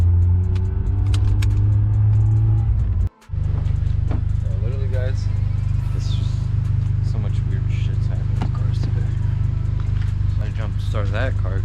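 A car engine idling steadily after a hard, repeated start in cold, rainy weather, a loud continuous low rumble with a brief cutout early on and a person talking over it.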